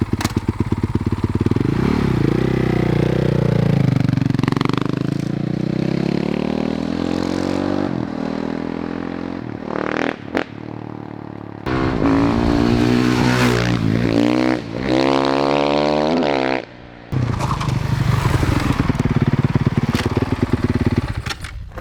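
A Honda CRF 450 supermoto motorcycle pulls away hard in first gear, its engine roaring loud and close with rising revs, brief drops as the throttle closes, then climbing again.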